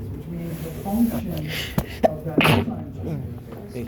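A single sharp sneeze from someone in a lecture hall, bursting out midway through a lecturer's steady talk about enzymes, near and fairly loud against the ongoing speech.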